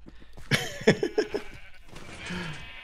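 Sheep in a video game bleat several times in quick succession, close and clear, followed by a softer lower bleat with faint background sound.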